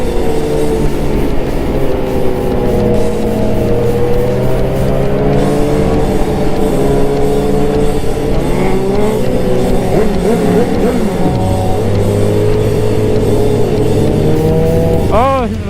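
A Suzuki GSXR1000 motorcycle rides through city streets among a group of riders, its exhaust droning loud and close with rising and falling revs throughout, plus a sharp high rev spike at the end.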